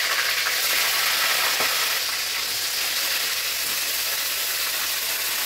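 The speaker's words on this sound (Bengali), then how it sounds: "দেখো বন্ধুরা মাছ ভাজা শুরু করছে, কড়াই তেল দিয়ে দিয়েছে" Large fish pieces fry in hot oil in an iron kadai, a loud, dense, continuous sizzling hiss heard up close with no talking over it.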